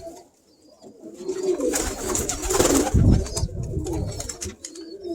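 Birmingham Roller pigeons kept in a loft coo softly and intermittently, a few low throaty calls rising over a quiet background with some rustling.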